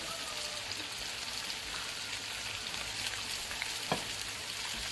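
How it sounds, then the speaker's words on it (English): Food frying in a pan while sweet and sour chicken is being made, a faint, dense crackling hiss that runs unbroken with one small clack near the end and no talking. "Let's get this stirred"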